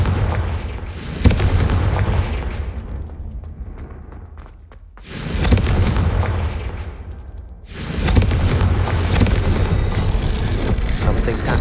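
Confringo fire-spell blasts in the Hogwarts Legacy game, three loud booming explosions, each swelling and then decaying into rumble, separated by brief quieter gaps.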